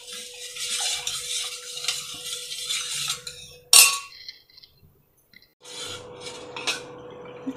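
A spoon stirs a drink mix into milk for a sweet chilled children's drink, giving steady scraping and rubbing with light clinks against the vessel, a louder clink near the middle, then a short pause before the stirring resumes.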